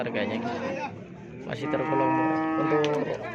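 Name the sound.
cattle mooing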